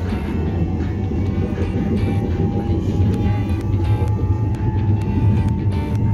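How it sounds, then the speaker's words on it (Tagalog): A train in Kuala Lumpur, Malaysia rumbles past steadily for several seconds, loud and close, with a continuous low roar and faint high squeals over it. "Ito yung train ng ano, ng Malaysia."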